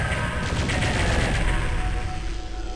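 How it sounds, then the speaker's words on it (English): Plasma rifle firing in Doom 64, a dense and continuous stream of rapid energy shots that stays loud and steady for the whole stretch with no pauses. "You know what, I'm gonna use the plasma rifle."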